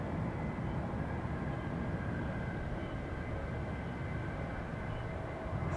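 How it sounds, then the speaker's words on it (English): A McDonnell Douglas MD-80 airliner lands on runway 17 left at Austin-Bergstrom airport, giving a steady, broad jet roar that holds evenly throughout from a moderate distance, with no voices. "loudest airplane in commercial airlines in the industry coming in to land on 17 left"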